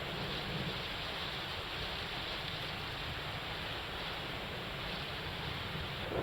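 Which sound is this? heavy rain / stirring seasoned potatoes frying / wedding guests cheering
heavy rain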